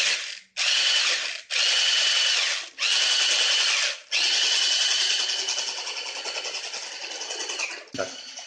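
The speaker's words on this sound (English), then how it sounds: "I'll be adding it into the egg white. I'll beat some more and add again." Electric hand mixer beating egg whites with icing sugar for pavlova meringue, loud steady whirring broken by three short pauses before a long continuous run, ending with a brief knock.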